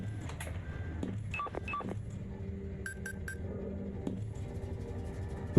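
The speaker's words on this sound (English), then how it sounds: "Ooh, beeping?" Electronic beeping in the space station game Space Station 14, with short high beeps in two quick groups over a low steady ambient hum, then fading back to background.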